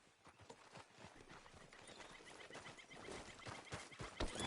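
Horse hooves clip-clop in Red Dead Redemption 2, a steady, fairly quiet walking rhythm of repeated hoof strikes with soft ambient game sound behind.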